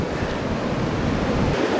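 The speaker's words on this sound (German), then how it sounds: "Komm her, meine Welle!" North Sea waves surge and wash continuously close by, a steady broadband rush of surf with wind buffeting the microphone throughout.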